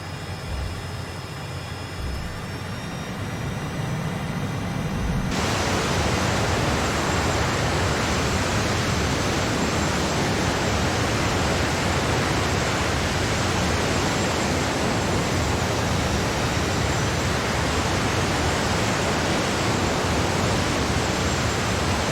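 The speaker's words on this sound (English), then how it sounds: "We are going to try to do a vertical takeoff and go park over there" A DC Designs AV-8B Harrier II lifts off vertically in Microsoft Flight Simulator: a steady jet whine builds suddenly into a loud, constant roaring rush that holds unchanged throughout.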